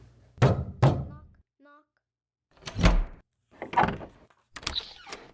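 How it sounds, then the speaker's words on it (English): Two sharp knocks rap on a door in quick succession, close and distinct, followed by a brief pause and then voices speaking. "Bernard held his breath and rapped on the door."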